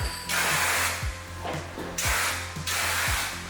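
Up close, a paint spray gun blasts a test coat onto a prepped Subaru hood in three or four loud hissing bursts with short pauses between passes.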